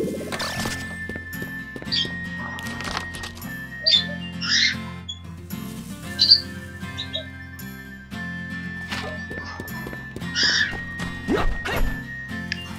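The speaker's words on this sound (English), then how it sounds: "Bird, you are so loud." A bird chirps loudly in Rune Factory: Oceans, with short, bright calls in scattered bursts over a looping game music bed.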